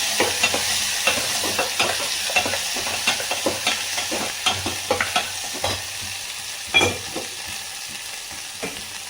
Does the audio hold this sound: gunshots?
no